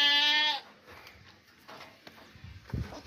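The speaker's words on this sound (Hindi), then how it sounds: "दो दांत और खस्सी बकरा है, मोटा ताज़ा बकरा है" A castrated two-toothed sacrificial goat gives one loud, clear bleat up close, followed by faint rustling and a dull thump.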